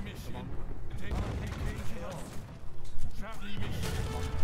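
Cannons and gunfire thunder through a battle in Age of Empires 3, a dense barrage of booms and cracks layered with clashing noise, loud and continuous, with game voices speaking over the fighting.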